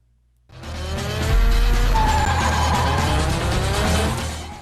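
A car drifting in a Tokyo Drift movie scene, tires squealing loudly and continuously over engine roar after a brief quiet start, with a slowly shifting squeal pitch.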